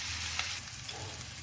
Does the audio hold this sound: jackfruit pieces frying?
yes